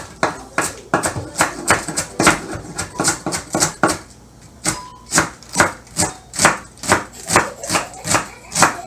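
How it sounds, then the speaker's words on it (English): Rhythmic knife chopping through rolled-up greens on a cutting board, a long series of sharp, evenly spaced thuds with a short pause midway before the steady chopping resumes. "and then I just get to chopping"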